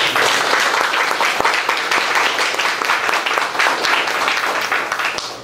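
A church audience at a health talk gives a loud, sustained round of applause for Jesus, dense clapping filling the whole stretch without pause.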